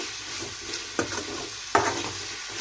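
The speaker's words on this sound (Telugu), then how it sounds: "కొద్దిగా సేపు వేయిద్దాము ఉల్లిగడ్డలతో పాటు" Onions fry with chili powder, coriander powder and garam masala for a tender tamarind leaf dish, giving a steady close sizzle broken by two sharp scrapes of a spoon stirring the pan.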